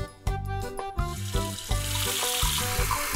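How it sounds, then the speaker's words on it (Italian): Hot water runs from a sink tap over embroidered felt Christmas decorations being rinsed, a steady splashing stream broken by intermittent clunks and knocks of handling close by. "ora che siamo al rubinetto, sciacquiamo tutto con l'acqua calda"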